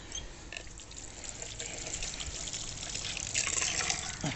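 Water pours steadily into a potted strawberry plant for several seconds, a broad splashing rush that grows slightly louder toward the end, with no voices.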